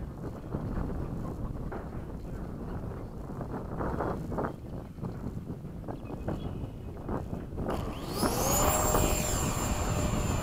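A Hawk model aircraft flying a touch-and-go circuit, with steady wind-buffeted motor noise, then a louder close pass with a rising whine near the end.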